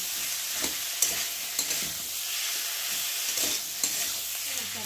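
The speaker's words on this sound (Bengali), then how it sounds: "ভালো করে ভাজা হয়ে গেছে আর মশলা থেকে দারুণ একটা হচ্ছে" Spices sizzle steadily in a pan for a potato and rohu fish curry, with a spoon scraping and stirring at intervals; close and continuous, with no talking.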